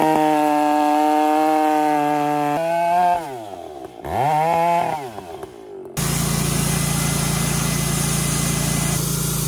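A chainsaw cutting timber logs into 6x6 beams roars loud and near, dipping and rising in pitch as it bogs into the wood, cutting out briefly, then running hard again.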